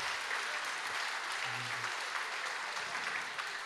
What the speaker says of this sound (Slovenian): si zasluži en lep aplavz